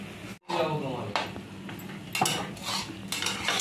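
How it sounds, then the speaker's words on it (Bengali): Hilsa fish with bottle gourd and potato being stirred in a pot, with a faint simmering hiss and spoon clinks and scrapes against the metal at irregular intervals, close by. "মাছগুলো এবার ঘেটে দেওয়া হয়েছে"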